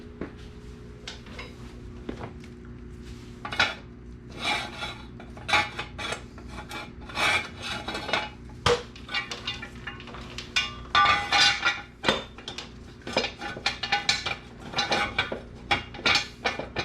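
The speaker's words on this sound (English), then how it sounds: "I'm going to jack this back up just a little bit so I can get both jack stands under it." Jacking up a BMW K1600 motorcycle, with repeated close metallic ratcheting, scraping and clinking strokes in an irregular rhythm over a low steady hum.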